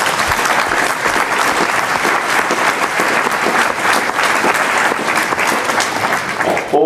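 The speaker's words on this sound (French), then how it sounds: "et on peut aussi l'applaudir." Sustained applause from the assembly at a diocesan synod session in Tournai, a dense, steady roar of many hands clapping with no break, close and loud throughout.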